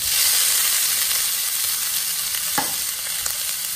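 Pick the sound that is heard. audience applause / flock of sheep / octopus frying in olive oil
octopus frying in olive oil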